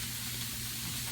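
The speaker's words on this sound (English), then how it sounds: "You're still getting a nice sear on it." Steak and mushrooms searing in a hot pan for steak Diane, a brief dense sizzle and hiss at steady volume.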